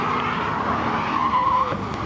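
A rear-wheel-drive Jaguar F-Type slides around corners on a Driftkhana course at Goodwood SpeedWeek, its engine roaring steadily while a tire squeal rises briefly midway through.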